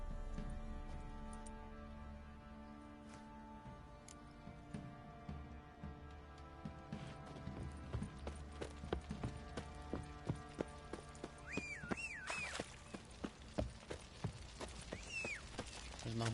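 Rhythmic clip-clop of horse hooves trotting in The Witcher 3 over a steady background music bed, with a few brief whoosh-like accents near the end.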